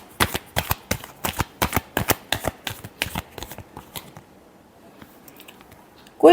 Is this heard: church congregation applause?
no